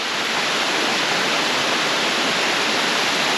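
A side waterfall in Ordesa National Park in the Spanish Pyrenees, heard close up as a loud, unbroken roar of falling water with a constant hiss and no voices.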